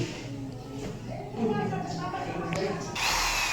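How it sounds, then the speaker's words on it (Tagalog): An electric drill bores screw holes for a doorknob in a door, a continuous grinding whine close by under a person talking. "Yan po, binabaray na po niya. Yung baba at taas po para po mailagyan yung tornilyo."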